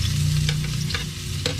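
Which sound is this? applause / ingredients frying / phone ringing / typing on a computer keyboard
ingredients frying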